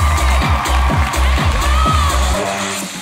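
Audience at an Indonesian televised dance competition cheering and whooping loudly over a pounding music beat, the crowd noise steady and close, fading slightly near the end.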